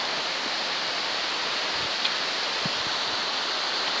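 Steady broadband rush of a waterfall inside an indoor rainforest biome, constant and fairly loud with no distinct pauses, a few faint low thumps scattered underneath.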